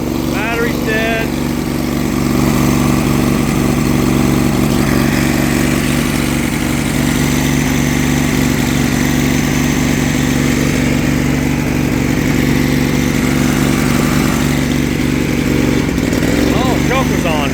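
Kohler Command engine on a Cub Cadet 2072 garden tractor, just started after sitting all winter, runs loud and close with a steady droning idle, while someone talks over it.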